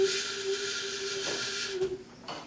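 A steady, breathy whistle tone with airy hiss, held for a couple of seconds before sputtering and breaking off, then a brief faint puff.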